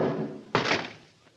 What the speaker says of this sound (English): Baldy kicked the door shut.